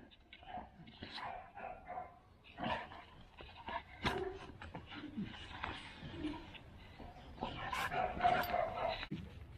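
Two dogs fighting at a dog kennel, a chaotic tangle of growls, snarls, yips and barks at close range, with people talking and calling out over the scuffle throughout.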